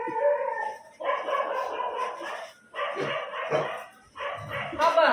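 Street dogs bark and howl nearby in three long, drawn-out bursts separated by short pauses, loud and close.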